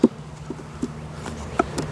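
A low, steady buzzing of bees hums throughout, with a few soft taps and clicks scattered over it, close by and fairly quiet.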